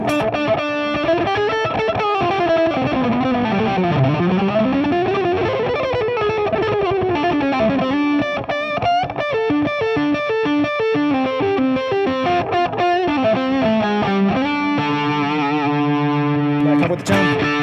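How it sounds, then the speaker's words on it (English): Electric guitar, a C.R. Alsip, played through the neck pickup with the tone knob rolled down, a warm, dark distorted line of bending and sliding notes running loud and continuous with effects-unit coloring. "you can do the neck pickup and turn the tone down"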